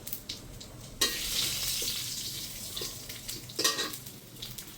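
Two dried chilies, three pieces of bay leaf and cumin fry in hot oil for tempering, a close, steady sizzle that swells suddenly as the spices go in, with occasional stirring clinks and scrapes.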